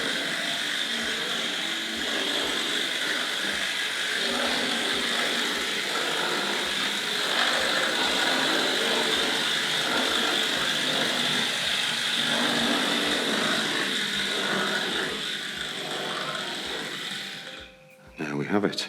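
A Hornby model train runs on a home railway layout, producing a steady whirring, buzzing motor drone with a faint rhythmic clicking from wheels on rail joints throughout, until it cuts off sharply near the end.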